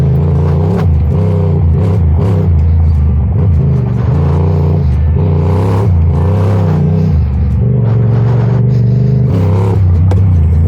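A Yamaha MT-07 street bike rides a dirt trail, its engine droning and rising with throttle while the suspension clatters and knocks over bumps, continuous and loud up close.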